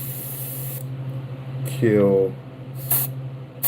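An airbrush spraying paint onto a realistic largemouth bass model, short hissing bursts close up with a voice talking over them.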